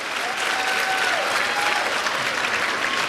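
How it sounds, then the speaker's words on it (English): Steady, loud applause from an audience at a youth ambassadors awards program, cheering 4th grade champions with a continuous wash of clapping throughout. "Let's give Compostela a round of applause."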